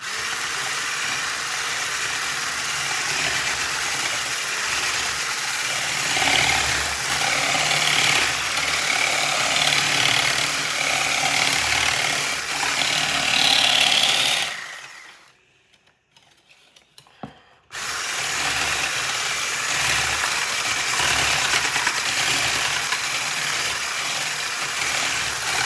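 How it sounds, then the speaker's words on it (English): An electric whisk beating chocolate cake icing, a loud steady buzzing whir running for about fifteen seconds, pausing briefly, then starting up again at the same level. "I'm just gonna give it a long whisk and pray it kind of works."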